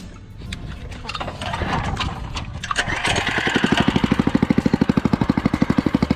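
A budget cafe racer motorcycle runs on its first ride, smoking slightly, with its pipes not yet finished. The engine sputters, then settles into a loud, steady, rapid thumping idle close by.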